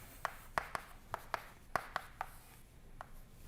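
Chalk or marker strokes on a lecture board during a classical mechanics class, a series of short sharp taps and scratches arriving in an irregular rhythm, fairly faint, with no talking.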